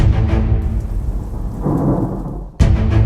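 A thunderstorm with heavy rain at sea during a Route du Rhum sailing race: loud rolling thunder over dense, steady rainfall, with a brief dip before a fresh crash at the end.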